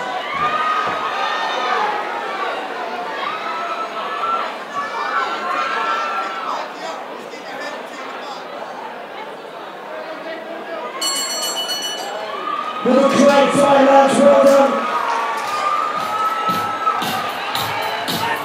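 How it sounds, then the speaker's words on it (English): A crowd at a mixed martial arts event in Glasgow roars with cheering, shouting and chatter, building to a louder burst of yelling near the end. "Make some noise for the fighters!"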